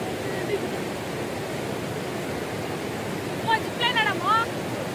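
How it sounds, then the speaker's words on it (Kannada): Water rushes from a waterfall in a continuous loud broadband roar, with brief voices faintly audible near the end. "ಇಲ್ಲಿ ನೋಡಿ ಎಷ್ಟು ನೀರು ಹರಿತಾ ಇದೆ"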